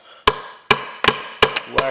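Five sharp metallic hammer strikes on bolts during 1995 Suzuki Sidekick five-speed transmission work, spaced irregularly with a brief ringing after each, close and loud, no talking.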